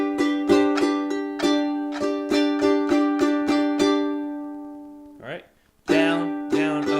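A ukulele strummed in a lively rhythmic pattern of down and up strokes, with a brief pause and a short squeak before strumming resumes, close and clear.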